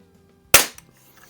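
A single sharp crack from an early Crosman 760 air rifle firing a BB, loud and close, with a quick decay and a faint tick just after in an otherwise quiet space.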